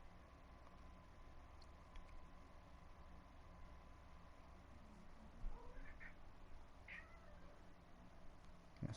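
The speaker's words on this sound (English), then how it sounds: "That was my cat." A cat meows indoors, a few short faint calls near the middle of the clip over a steady background hiss.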